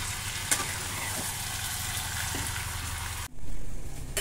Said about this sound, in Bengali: চিকেনও মোটামুটি হয়ে এসছে, মানে এখনো কষছে, কষা কষি চলছে